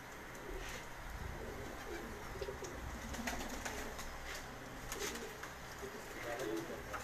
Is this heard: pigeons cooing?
yes